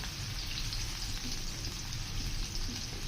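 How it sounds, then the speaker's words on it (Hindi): Onions frying in oil for a cabbage keema curry, a steady close hiss and crackle with fine popping throughout, no voices. "प्याज जो है उनको हमने हल्का सा ब्राउन कर लेना है, कलर इसका चेंज हो जाए प्याज का, इतना हमने फ्राई करना है इसको"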